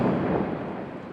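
Glacier ice breaking off with a deep, booming crack like a cannon shot, a single loud low rumble that fades over about a second.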